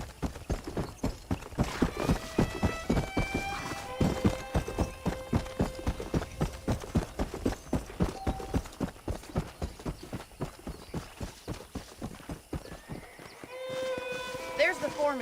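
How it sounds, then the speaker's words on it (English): Steady clip-clop of horse hooves trotting at a regular rhythm in Red Dead Redemption, with a horse whinnying and game music or ambience layered underneath. "The horses are saddled up over here."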